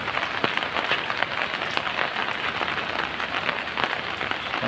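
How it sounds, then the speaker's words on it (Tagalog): Steady rain falls in a dense, continuous hiss, loud and close, with scattered sharper drop impacts throughout and no voices. "Ulan na."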